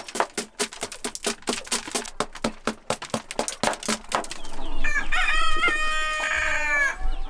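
Free-range chickens outdoors on a farm cluck in a quick, rhythmic series of sharp calls, followed by a rooster crowing loudly close by.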